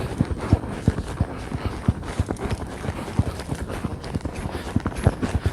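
A saddled horse's hooves clip-clop in a steady walking rhythm, sharp repeated knocks close by over faint background noise, with no clear talking.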